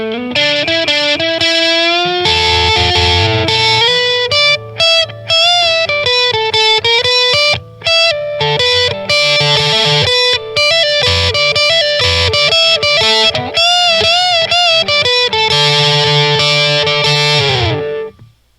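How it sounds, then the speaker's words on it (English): Electric guitar played through simulated amplifier distortion, a loud, sustained overdriven tone with rich harmonics, strummed chords and single-note phrases running continuously with brief gaps before ringing out at the end. "let's hear some simulated distortion."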